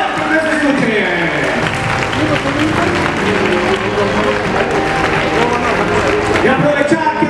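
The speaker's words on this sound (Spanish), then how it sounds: "¡Y un fuerte aplauso para ellos! ¡Por favor, aplausos!" Applause and cheering from a crowd at a children's cosplay catwalk, steady and loud throughout, with voices mixed into the noise.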